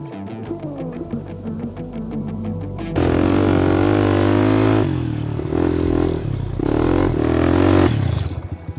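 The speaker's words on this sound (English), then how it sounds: "That's what it's like to cruise around on a quad bike at the Atlantis Dunes with Thrill Seeker." A quad bike engine roars on the sand dunes, starting with a steady idle and then jumping to a loud, sustained revving drone that rises and falls with the throttle, with no voices.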